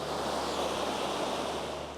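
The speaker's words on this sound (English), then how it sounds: "They're like river rapids." Broad, steady rushing water from river rapids near the falls at Inverness, flowing continuously with a dense, even roar and no pauses, heard close and alone.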